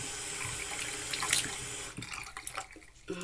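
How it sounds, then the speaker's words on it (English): Running tap filling a basin with lukewarm water for washing a wig, a steady close splashing stream that shifts to irregular sloshing and drips near the end, with no talk. "You would get some lukewarm water."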